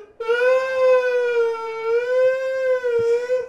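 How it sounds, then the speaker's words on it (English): An ambulance siren wails loudly and steadily, its tone rising and falling slightly as it holds for several seconds. "Sounds like an ambulance."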